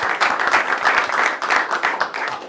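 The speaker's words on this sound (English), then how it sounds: "I think you should give yourselves a round of applause." A small group at a press conference claps in a brief, close burst of applause with uneven, individually audible hand claps.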